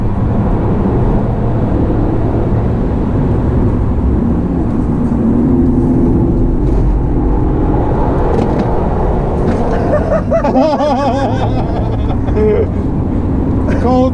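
A Toyota Yaris on track at Donington Park, its engine droning loud and steady from inside the cabin the whole way, with people talking over it.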